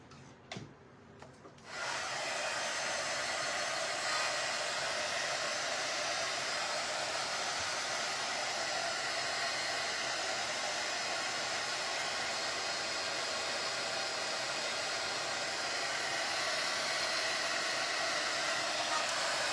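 A hair dryer blows a steady, loud whooshing hiss while drying paint on a large oval frame, starting after a few seconds of faint handling noise and running on without pause.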